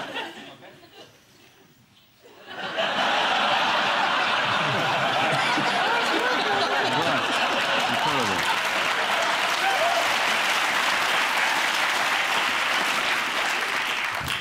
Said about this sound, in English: And you're clapping